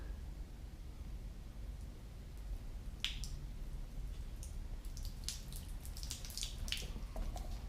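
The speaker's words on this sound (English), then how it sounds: "I'm going to pour some water on and see how well that does" Soft continuous pour of water with scattered drips and splashes landing on a Columbia Ascender softshell jacket, beading on the fabric, close by and fairly quiet, no voices.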